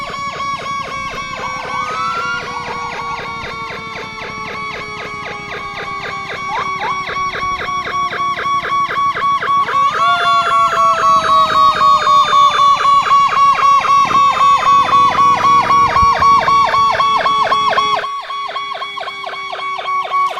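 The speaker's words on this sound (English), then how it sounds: "You can hear the sirens as the Patterson Police Department and Fire Department escort the first units in the parade" Several police and fire engine sirens wail loudly and continuously at a Christmas parade, their pitches sweeping up and down, close by, with engine rumble beneath.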